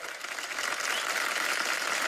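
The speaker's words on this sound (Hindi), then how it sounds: "इन सब के लिए तालियां होनी चाहिए" Audience applause at a comedy talk show, a dense, steady burst of clapping from a studio crowd, loud and sustained without voices.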